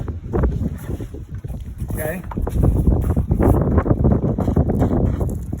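Steady rushing wind buffeting the microphone throughout during the takedown of a Coleman tent trailer, with a person speaking briefly over the gusts.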